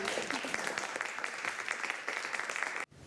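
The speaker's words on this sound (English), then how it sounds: "You want to applaud for them?" Sustained applause from a crowd, steady dense clapping that cuts off abruptly near the end.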